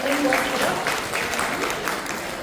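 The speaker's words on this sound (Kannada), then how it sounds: "ಒಂದ್ಸಲ ಜೋರಾದ ಚಪ್ಪಾಳೆ ಬರಲಿ ಅಂತ" An audience at the launch of a Honda electric scooter gives a burst of loud clapping that stays dense throughout, with a voice speaking over it.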